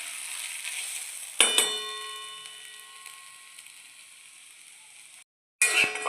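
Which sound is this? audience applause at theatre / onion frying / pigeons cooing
onion frying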